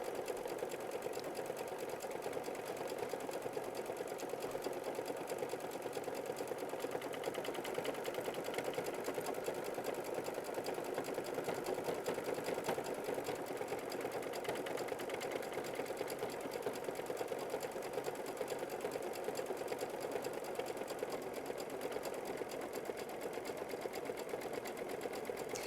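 Sewing machine running continuously while stitching a heavy satin stitch on a quilt block, a steady fast mechanical whir and rattle held at even loudness throughout, close by with no speech.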